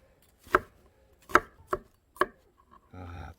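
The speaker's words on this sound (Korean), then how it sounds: "채소들 한번 손질할게요." Vegetables are chopped on a cutting board for a beef head soup cooked over a wood fire, four distinct knife strikes spaced about half a second apart, close and crisp, followed by a brief scraping rustle.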